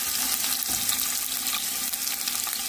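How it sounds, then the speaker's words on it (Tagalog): Ginger fries in a pan with a steady, dense sizzle and crackle that runs loud and unbroken throughout, with faint stirring beneath it. "unahin natin ilagay yung ginger hanggang mag golden brown siya"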